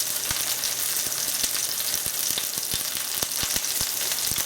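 Steak searing untouched in a hot pan, a loud, dense, steady sizzle with rapid crackling pops throughout.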